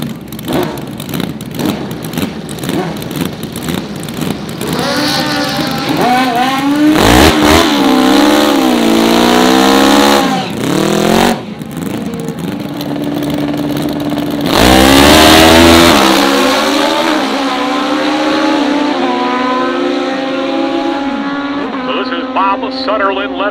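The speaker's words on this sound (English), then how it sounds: "Sutterlin, left-hand side, 8:15 is his lap time for the 78 Suzuki GS1000, 160 miles per hour" A supercharged, fuel-injected 1978 Suzuki GS1000 drag motorcycle with an Eaton M90 blower roars loudly at a dragway, the engine revving and climbing in pitch through repeated hard accelerations with brief gear breaks, close and dominant throughout.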